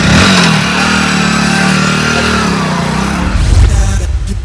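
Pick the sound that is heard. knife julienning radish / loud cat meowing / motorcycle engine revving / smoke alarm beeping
motorcycle engine revving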